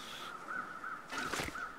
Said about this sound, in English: I just hear birds.